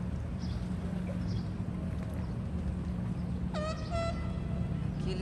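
A boat horn on a maritime canal sounds two short harmonic toots in the middle distance, rising over a steady low rumble of water traffic and engine noise.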